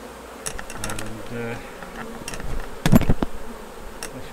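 Honey bees buzz steadily around an open hive during a honey harvest, with clicks and knocks from handling frames, close, and a voice speaks briefly.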